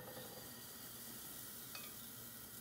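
Oat pancake batter sizzles in a greased frying pan, a steady, soft hiss with a faint scrape partway through, heard alone.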